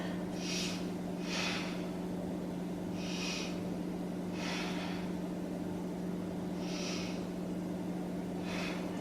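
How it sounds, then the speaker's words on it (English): Deep belly breaths during a beginner yoga session: soft, airy inhales and exhales come in slow pairs, quiet and close, over a steady low room hum with no talking. "3 breaths into the belly."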